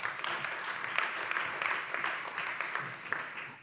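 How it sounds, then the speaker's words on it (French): A conference audience applauds speakers at an event on renewable energy and climate change, a dense, steady wash of many hands clapping continuously throughout, fairly close and filling the room. "On peut les applaudir."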